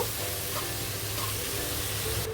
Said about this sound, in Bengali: এইবার ভালো করে পেঁয়াজটা কষিয়ে নেব